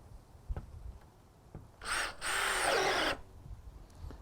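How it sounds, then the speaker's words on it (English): A small DeWalt Atomic DCD708B brushless 20V drill bores into 2x6 lumber in a short, loud burst of just over a second, briefly stalling, with faint handling clicks before and after. "I'm gonna drill some 2x6 here and we'll see how it makes out."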